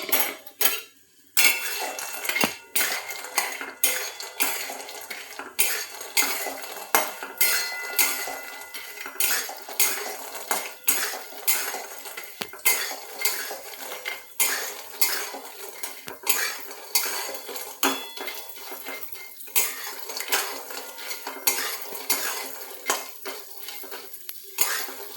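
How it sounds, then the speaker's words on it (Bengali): Bori lentil dumplings fry in hot oil in a pan as a utensil stirs them, making repeated close metallic scrapes and clatters over a faint, steady sizzle. "একটু বড়ি দেব, একটু বড়ি ভেজে নিচ্ছি প্রথমে।"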